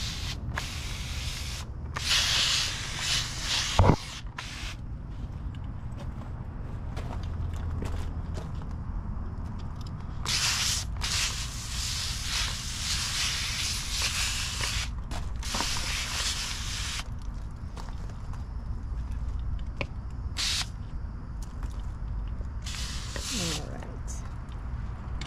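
A handheld sprayer misting garden plants affected by powdery mildew in a zone 9a garden, giving steady hissing bursts that start and stop repeatedly at close range, with some rustling of leaves between sprays.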